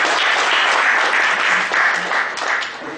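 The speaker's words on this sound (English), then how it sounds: "Please thank the speaker with a round of applause." Warm, steady applause from an audience at an auditing standards seminar, a continuous wash of many hands clapping, fairly loud and sustained throughout.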